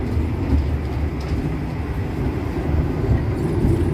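Steady rumble of an INKA-built executive-class passenger train in Indonesia heard from inside the carriage at speed, a continuous low roar with faint rattles, no talk.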